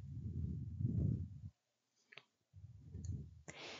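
A single sharp mouse click sounds at the end, following soft indistinct murmuring and a brief quiet stretch with small tapping noises.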